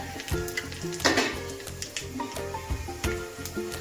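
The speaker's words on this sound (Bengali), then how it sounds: "এই যে শুকনো লঙ্কা, গোটা জিরে, তেজপাতা, দারচিনি, লবঙ্গ, এলাচ দিয়ে দিলাম ফোড়নে।" Whole dried red chillies, cumin seeds, bay leaf, cinnamon, cloves and cardamom crackle and sizzle steadily in hot oil, with a sharp burst of spitting early on and occasional light pan knocks beneath.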